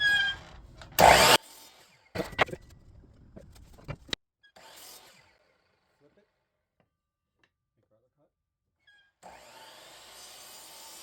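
A few short, loud bursts of a power saw cutting through wood, separated by pauses, then a stretch of near silence and a low background noise.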